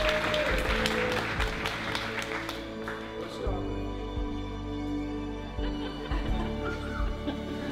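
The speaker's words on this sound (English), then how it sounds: "You can clap." Wedding guests at Kilver Court applauding in a brisk spatter of claps for about three seconds, then the clapping fades into a steady room background of murmur and tones.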